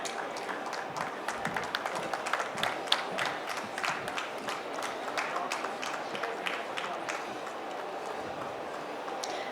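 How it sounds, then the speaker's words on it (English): An audience at a hospitality industry panel event in Bengaluru applauds with dense, sustained clapping from many hands at a steady level, with a little murmuring underneath. "please continue the claps"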